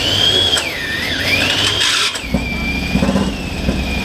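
A classic Ducati motorcycle engine with very high compression cranks over and fails to start at a classic bike meet, giving a loud, sustained mechanical churn that dips briefly midway, then resumes amid crowd noise.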